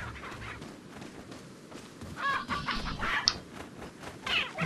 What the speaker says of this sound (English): Is that a chicken? Chicken!